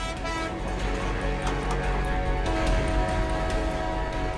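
Horn of an approaching train on a railway line, a sustained, loud, harmonic blast that holds steadily throughout, close and dominant.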